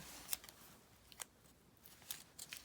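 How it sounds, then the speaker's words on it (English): Tape pulled and pressed onto the center of a folded paper coil, a few short sharp crackling tears and rips, close and quiet with no speech. "So I might just go and tape like the center here"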